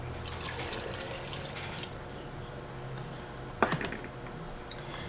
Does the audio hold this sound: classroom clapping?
no